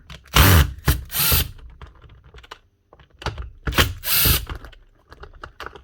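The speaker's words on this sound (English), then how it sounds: "we'll chance unscrewing the base first and taking that bottom half apart" Screws are backed out of the base of a Smartool dual head polisher with a power driver, giving short loud whirring bursts separated by clicks and light handling noise, close by, with no talk.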